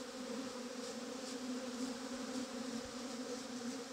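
Honeybees hum in a steady, dense drone close by as a grass brush sweeps them off the face of a hive during a move into a horizontal top bar hive.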